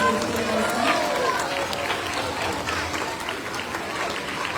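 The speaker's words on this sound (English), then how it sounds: "Give them another round of applause." Applause at a school assembly, a moderate round of clapping with voices and crowd noise mixed in, fading slightly over a few seconds.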